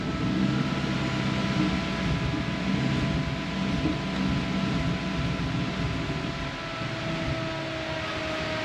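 A Toyota 1UZ V8 swapped into a Surf, its coil wiring faulty, idles very low with a steady, droning hum and faint whine, loud and unbroken throughout.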